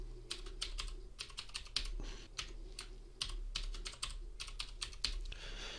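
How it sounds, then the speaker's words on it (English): Password being typed on a computer keyboard during a Windows MySQL installation: a quick, irregular run of close, crisp keystrokes with brief pauses between bursts, no talking. "So I'm going to put in a password."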